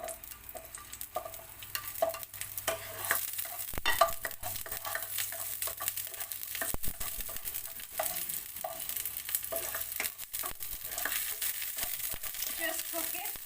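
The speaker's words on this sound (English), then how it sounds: "Then we have to put our onion." Onion frying in a pan for vegetable Manchurian, a steady close sizzle with scraping, clattering stirs throughout, no voices.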